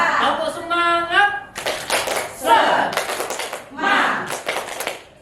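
Group of people performing the tepuk semangat rhythmic hand-clap, with a voice leading first, then bursts of patterned clapping mixed with voices chanting along, near and fairly loud.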